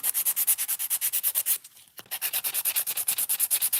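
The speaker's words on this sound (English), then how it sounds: "Sand file that one more time." A sand file shaping fingernails in quick, even back-and-forth strokes, a close raspy scraping rhythm that stops briefly midway, then resumes.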